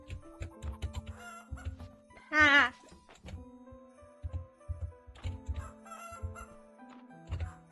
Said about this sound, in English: And we have chickens.